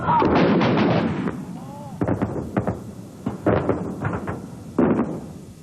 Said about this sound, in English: You have a number one man who loads and fires the howitzer when commanded by the Fire Direction Center.